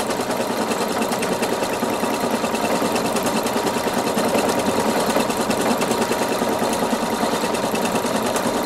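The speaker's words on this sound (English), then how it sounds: "you'll notice as it sews, it shows you where you are in the sequence." A Viking Sapphire 960Q sewing machine stitches steadily at close range, a continuous fast whirring hum with a fine rapid needle chatter that holds an even level throughout.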